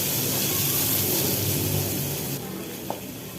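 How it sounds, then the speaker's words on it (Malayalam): Sliced onions drop into hot oil already crackling with mustard seeds and curry leaves, giving a loud, steady, close sizzle that eases slightly partway through, with a small tap near the end. "തളർത്ത ഉള്ളി ഇട്ട് കൊടുക്കാം എന്നിട്ട് ഇളക്കി കൊടുക്കാം"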